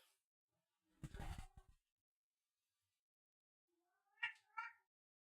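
A cat lets out two separate meows a few seconds apart: first a low, drawn-out complaining yowl, then a higher, shorter two-part meow, both close in an otherwise quiet room.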